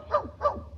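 A dog named Fletcher barks in a classic old-time radio comedy show, three quick, sharp barks in a steady rhythm, heard clearly and alone.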